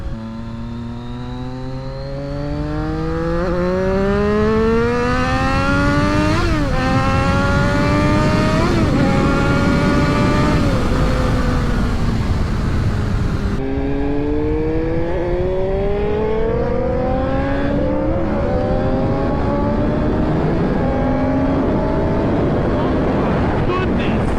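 Yamaha R1 sport motorcycle engine revving hard and climbing through the gears in loud, rising sweeps with brief dips at each shift, heavy wind noise over it, heard continuously from on the bike.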